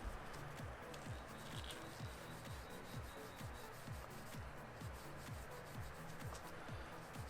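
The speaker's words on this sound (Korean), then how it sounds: "부분을 이렇게 살살살살 문질러 주시면 돼요" A polishing cloth rubs over scratches on an iPhone X in quick, even back-and-forth strokes, a soft steady scrubbing rhythm heard up close and alone.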